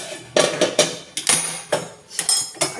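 A lid is set over a hilsa fish dish with several close, sharp metallic clanks and clatters in an irregular sequence, some doubled and ringing briefly.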